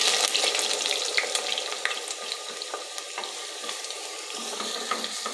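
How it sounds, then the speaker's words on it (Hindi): Onions sizzling and frying in hot oil inside a clay handi pot, a continuous crackling hiss with scattered pops and stirring scrapes, steady and close with no talk. "मिट्टी की हांडी के अंदर मैंने ऑयल पहले से गर्म होने के लिए रख दिया था और अब इसके अंदर मैं प्याज"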